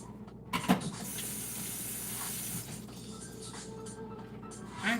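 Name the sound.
food sizzling while sautéing in a pan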